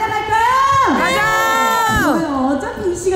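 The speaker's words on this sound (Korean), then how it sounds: "여러분들이 준비되신 만큼 박수 한 소리 좀 보내주시면 너무 감사하겠습니다" A trot music concert crowd cheers and shouts loudly all at once, with high whoops and screams rising and falling in pitch over a dense, continuous roar of voices.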